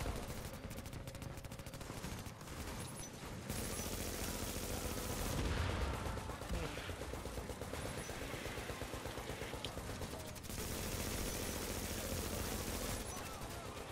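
Enemy gunfire in The Division video game comes in repeated loud bursts of rapid shots, with short lulls between the volleys, under faint voices.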